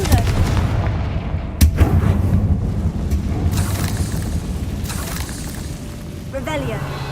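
A Confringo blasting spell explosion in Hogwarts Legacy, a booming burst followed by rumbling debris, with a voice speaking over the game sound.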